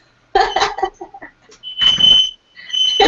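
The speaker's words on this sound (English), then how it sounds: "You set off the fire alarm." A smoke alarm set off by burnt cooking shrills in loud piercing bursts, partly drowned by excited voices and cheering nearby.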